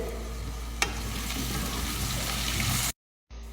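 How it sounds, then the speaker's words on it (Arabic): Large chunks of potato are stirred in a pot with hot pepper, turmeric and curry spice, giving a soft sizzle and scraping with a brief sharp knock early on. It falls silent for a moment near the end. "وعندي 3 حبات بطاطس مقطع كبار، احطهم ونقلب"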